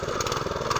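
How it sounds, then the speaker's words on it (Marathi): A tractor engine labours as the tractor climbs a muddy field bund during paddy field preparation: a close, steady, throbbing chug with no voices. "ट्रॅक्टर बघ कसो मेरेड चढयता तो."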